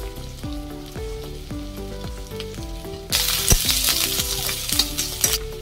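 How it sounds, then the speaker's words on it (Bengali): Onion, garlic and green chili sizzle in hot oil while a spatula scrapes and stirs in a rhythmic series of strokes, and the frying grows louder and more intense halfway through. "দেখুন তেলের মধ্যে আমি দিয়ে দেবো পেঁয়াজ, রসুন,"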